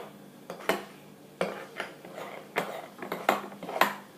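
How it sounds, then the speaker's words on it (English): Homemade slime stirred in a bowl, heard as a run of sharp clinks and wet clacks in irregular bursts, close and moderately loud with quiet gaps between strokes. "Yeah, this is quite a lot of stirring."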